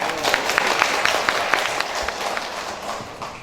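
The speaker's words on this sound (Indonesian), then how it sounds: "tepuk tangan untuk Bapak Ibu semua" Applause from a symposium audience rises briefly as a short burst of rhythmic clapping, fairly close and moderate in volume, thinning out toward the end.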